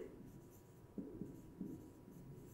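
Chalk or marker writes on a board during a geometry lesson, faint scratchy strokes in short bursts over quiet room tone.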